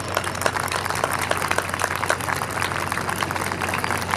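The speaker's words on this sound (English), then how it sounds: "a big round of applause for all of them" An audience at a school annual day applauds visiting dignitaries, a dense continuous patter of clapping hands at moderate level over a steady low hum.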